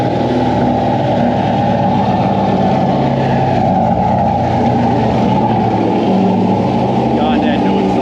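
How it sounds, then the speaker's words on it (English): Loud, steady engine roar from a Jeep Trackhawk with a built motor and a new exhaust, running on a dyno, holding a constant heavy drone close by for the whole stretch. "that new exhaust sounds good"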